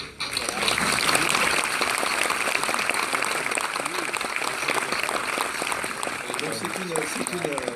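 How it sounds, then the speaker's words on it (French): An auditorium audience applauds the team behind the Rosetta comet mission, a dense, steady wash of many hands clapping that holds loud throughout, with voices talking over it toward the end. "je propose qu'on les applaudisse tous"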